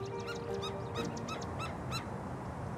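Birds calling in a park near Tucson, Arizona: a repeated series of harmonic honking or hooting calls, several in a row at a moderate distance, over steady outdoor background noise with no talk.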